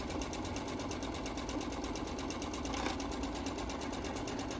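A sewing machine stitching a large hammock chair cushion runs steadily with a fast, even mechanical whir and rapid needle clatter, close and continuous throughout, with no voices.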